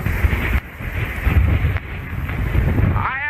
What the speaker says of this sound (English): we're watching these gusts of wind